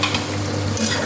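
Taro pieces drop into pork frying in oil in a pan. A loud, steady, close sizzle hisses without a break and no one speaks.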